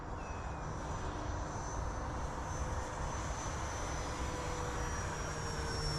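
Hobby King Flycat V2 RC electric ducted fan plane whines steadily overhead during an accelerated stall manoeuvre, a constant high-pitched fan drone heard from a distance outdoors.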